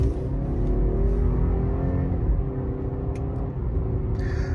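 A 2019 BMW 530i with the B46 engine, just repaired with a new oil filter housing and water pump, is on a test drive, heard as a steady low cabin rumble of engine and road noise with no speech.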